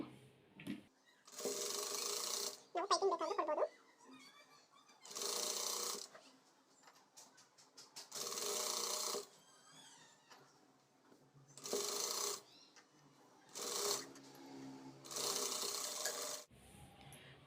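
Sewing machine stitching a blouse lining, running in repeated bursts of rapid, steady whirring separated by short pauses, close and fairly loud.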